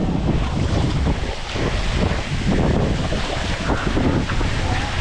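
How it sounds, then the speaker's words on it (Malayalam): A forceful rush of water at Aagaya Gangai waterfall in Kolli Hills, a loud continuous roar with gusty wind buffeting the microphone throughout. "ഓ നല്ല ഫോഴ്സിലാണ് ഇത് വെള്ളം വരുന്നത്."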